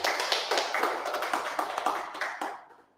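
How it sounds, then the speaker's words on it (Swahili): An audience applauding at a first-anniversary celebration for a media company, a burst of many hands clapping that holds steady for a couple of seconds and then fades out. "Tumpigie makofi tafadhali."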